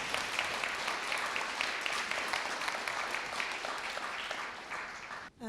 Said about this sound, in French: je pense qu'on peut vous applaudir très fort